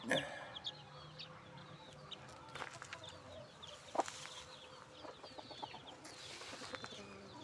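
Day-old chicks and young roosters on a farm, a faint mix of scattered cheeps, clucks and short calls in the background, with a few louder chirps standing out; a voice talks quietly among them.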